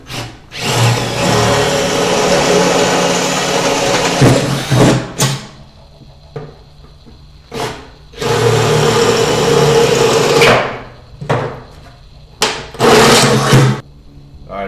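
A power drill with a 5/16 bit bores holes for a grill side bracket on a Recteq RT-700, loud whirring bursts of several seconds separated by short pauses and brief trigger blips.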